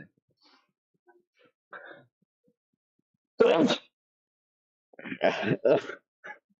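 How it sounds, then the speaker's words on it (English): A single sharp sneeze bursts out of near silence, followed a moment later by a few short breathy sounds. "I just sneezed."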